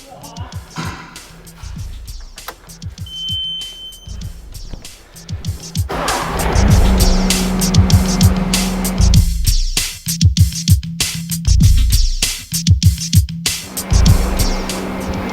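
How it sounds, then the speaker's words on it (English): A compact track loader's hydraulics press the idler wheel in, pushing against pins while installing a rubber track; a steady mechanical hum rises under repeated clanks and metallic knocks, loud and close, with bursts of louder pressing noise midway. "now we can use the machine's hydraulics and place 2 pins in to press the idler wheel in"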